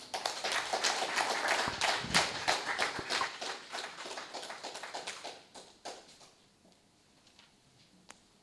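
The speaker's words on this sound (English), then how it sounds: "Another round of applause." A modest audience at a book launch claps in a round of applause, dense at first and then thinning to a few scattered claps before fading to quiet.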